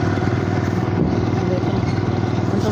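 A motorcycle rides along a road, its engine giving a close, continuous, evenly pulsing throb with a faint rattle throughout.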